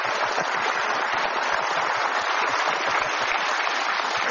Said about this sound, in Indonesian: kita berikan aplaus yang paling meriah untuk Mustafa Bisri dalam puisinya